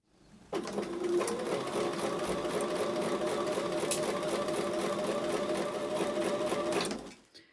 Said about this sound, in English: So I'm going to go back to the sewing machine